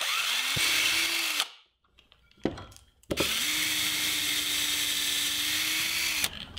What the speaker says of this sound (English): And then I'll finish the hole with an extra long bit in the cordless drill.